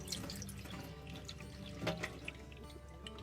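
Steady splashing water gently poured out of a jar holding sprouting lotus seeds, continuous, faint and close, with small drips and gurgles throughout and no voices.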